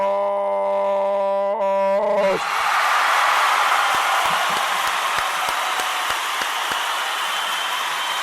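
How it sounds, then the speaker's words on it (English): A held, howl-like tone gives way to a broad roar of audience applause with sharp claps scattered through it, loud and sustained to the end. "I want to give all of those Nia babies a round of applause"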